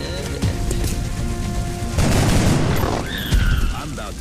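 Gunfire in the XCom video game, a dense continuous burst of shots and booms with a louder surge midway, while game voices are faintly present.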